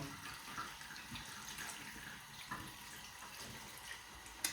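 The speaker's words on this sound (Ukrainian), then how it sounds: "Сюди необхідно додати воду" A steady stream of water runs and splashes into a pot of buckwheat, faint and continuous, with no voices.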